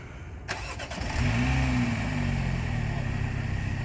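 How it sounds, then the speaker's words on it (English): A 2021 Mini Cooper S F56 engine cranking to life by remote start, with a few quick clicks, then the starter catch and a rising rev that eases into a steady idle, heard nearby. "Alright, the vehicle will start up in a few seconds."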